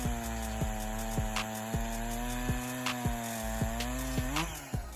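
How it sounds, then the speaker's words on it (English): A chainsaw with a noise reduction feature cuts wood, its engine running in an even whine with regular rhythmic pulses of the chain biting, moderately close and alone without talk. "This chainsaw is equipped with a noise reduction feature that contributes to a quieter work environment"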